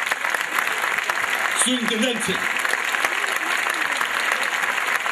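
Audience applause at a school choir performance, a steady dense wash of clapping throughout, with voices speaking over it.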